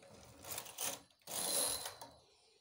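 A hand-operated knitting machine knits a row of stitches with two quick mechanical rattling sweeps of the carriage across the needle bed, close and fairly quiet, with no talk.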